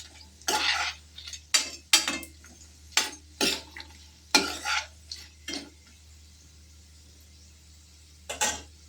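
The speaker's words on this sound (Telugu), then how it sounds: "ఉల్లిపాయ, జీడిపప్పు వేసేసుకోవాలి. ఇవి 1 నిమిషంలో వేగిపోతాయి" Cashews and onions are stirred and scraped in a pan while frying for mint pulao, with a spoon clattering against metal in repeated short bursts over a faint steady hum, fairly quiet and without talk.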